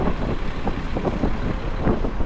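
Cold wind gusting across a microphone outdoors on a city walk in Cleveland, a continuous low rumbling buffet with no talk.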